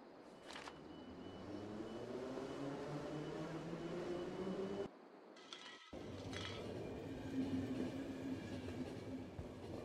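A train rolls along in the video game The Final Station, a steady rumble with clanking, rattling metal and a brief break in the middle, fairly quiet and with no talk.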